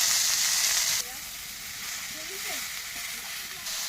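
Fish head frying in hot oil with jute greens, green chili and cumin, a loud steady sizzle that drops a little after the first second and settles into continuous crackling and hiss.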